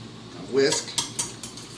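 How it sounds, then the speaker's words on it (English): A metal whisk in a bowl of eggs gives a quick burst of stirring followed by three or four sharp, bright metallic clinks against the bowl, close and brief. "A whisk."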